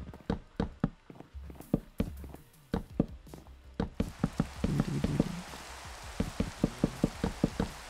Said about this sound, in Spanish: Que es una lluvia normal por ahora.